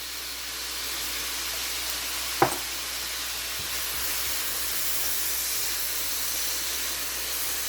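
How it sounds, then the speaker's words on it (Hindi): Cumin and black pepper powder sizzle in a pot for matar pulao under a constant soft hiss, with one sharp spoon clink against the metal while stirring. "इसको बस हम अच्छी तरह से चम्मच चला लेंगे।"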